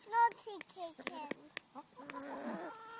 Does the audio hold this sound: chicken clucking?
yes